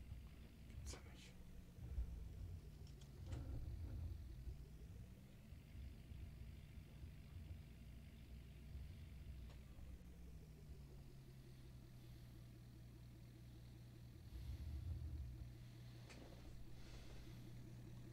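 A farm vehicle in Farming Simulator 19 drives along with a faint, low engine hum that rises and falls in pitch as it shifts speed, a few small clicks scattered over it, with a voice speaking now and then.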